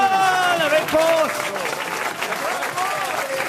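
Studio audience on a French radio comedy quiz show applauding a correct answer, a loud burst of clapping mixed with voices talking over it before it thins out.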